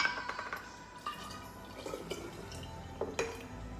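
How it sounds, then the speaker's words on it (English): Water poured into a jar holding leftover pasta sauce, with irregular drips and splashes and a faint trickle, close and fairly quiet in a home kitchen. "you're gonna fill this water now into this jar and do the same thing"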